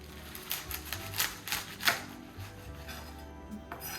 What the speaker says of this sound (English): I really just cut off the stems